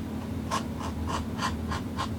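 A blade trimming the edges of a leather piece makes six evenly spaced, short scraping strokes, close and fairly soft over a low background hum.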